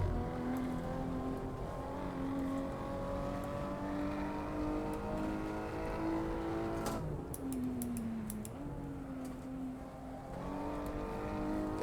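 A race car engine in the Assetto Corsa racing game holds a steady high-pitched drone under acceleration, rising in pitch, dropping briefly with quick gear-shift clicks midway, then climbing again, continuous and close.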